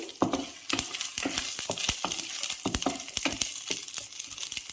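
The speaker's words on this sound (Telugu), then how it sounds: "కొంచెం మెంతులండి, పచ్చి కొబ్బరి కొంచెం వేసి కొంచెం కలపాలి" Fenugreek seeds and fresh coconut stirred in a hot pan for a mint chutney, sharp scraping strokes and clicks over a soft sizzle, close and uneven in rhythm, without speech.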